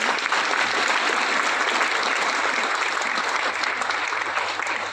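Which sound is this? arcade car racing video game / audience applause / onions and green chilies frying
audience applause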